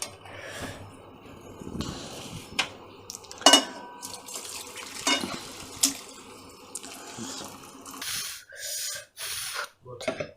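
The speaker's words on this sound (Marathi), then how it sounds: "आता हे पाणी गाळून घेऊया" Boiled water drains off cooked wild yam tubers (karande) in a home kitchen, with splashing pours and metal pot and utensil clatter in uneven bursts at close range, and a voice faintly present in between.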